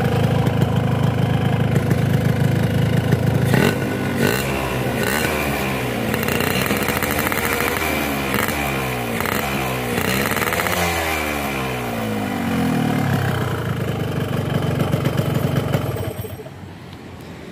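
A two-stroke motorcycle engine idles loudly up close, a steady buzzing rattle with pitch wavering as it revs slightly up and down before settling.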